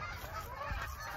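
Geese taking off and heading south honk together in a continuous, layered chorus at a moderate distance, with a low thump partway through.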